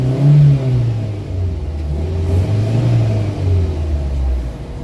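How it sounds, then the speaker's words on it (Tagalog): A Toyota Vitz with low power and vibration in reverse and drive gear runs its engine at a loud, steady hum, with gentle rises and falls in pitch as it revs. "Ibiganda na makina oh."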